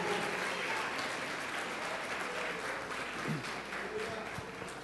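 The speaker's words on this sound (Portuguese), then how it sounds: "E seja mais forte essas palmas para o Senhor." A church congregation claps for the Lord in sustained, dense applause that stays loud and steady throughout, with a voice speaking over it.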